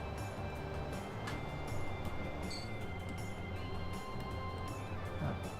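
A train runs steadily through the Transport Fever simulation game, a continuous rumbling rail drone with faint metallic tones and no pauses.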